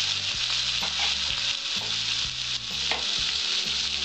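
Potatoes fry in hot oil alongside cashews and raisins for flattened-rice pulao, a steady loud sizzle with stirring scrapes running throughout, no voices.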